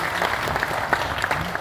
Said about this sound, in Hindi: तो जोरदार तालियां हो जाए आप लोगों।